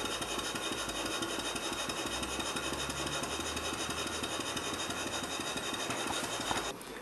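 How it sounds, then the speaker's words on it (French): A double tandem compound engine runs on compressed air in double expansion, giving a steady, continuous mechanical churn with a rapid rubbing, rasping rhythm and a low hum, close and even, with no talk. "On va faire un petit essai à l'air comprimé, comme d'habitude. Et voilà la machine en fonction,"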